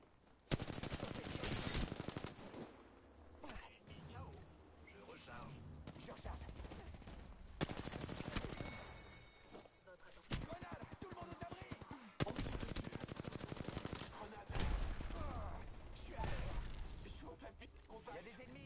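Rapid bursts of automatic gunfire in the game Apex Legends, dense and continuous across the stretch with short gaps, under frequent spoken voice lines.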